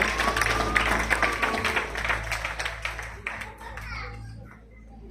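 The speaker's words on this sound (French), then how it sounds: "Aplauso por favor, un aplauso fuerte." Wedding guests applaud, a soft, steady patter of clapping heard at a distance beneath overlapping voices and children's chatter, fading toward the end.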